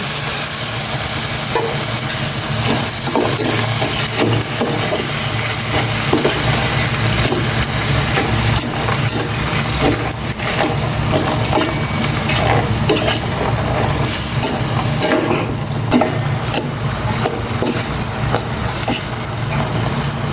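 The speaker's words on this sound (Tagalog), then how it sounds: "Igisa ko na rin itong munggo" Mung beans sauté in a pan for ginisang monggo, a loud continuous sizzle with rhythmic scraping and stirring clatter from a utensil throughout.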